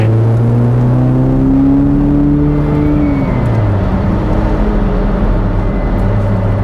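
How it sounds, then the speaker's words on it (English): A Mk2 VW Golf G60 Limited, four-wheel drive, accelerating hard through third gear, its engine note climbing steadily and loud from inside the car, then easing off into a lower drone. "One last run through third gear then"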